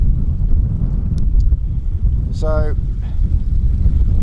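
Gusting wind on Dartmoor moorland on a cloudy July day buffets the microphone as a constant low roar, with someone talking over it and a brief bird call midway.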